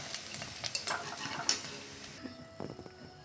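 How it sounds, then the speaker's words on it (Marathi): Thin sago papads fry in hot oil in a kadhai, a close bubbling sizzle with scraping clinks of a slotted ladle stirring, the hiss dropping off partway through. "तेल तापले, पापडी तळायले."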